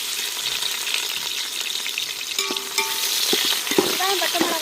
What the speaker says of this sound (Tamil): வெட்டி வச்ச பெரிய வெங்காயத்தையும் சேர்த்துக்கிறோம்.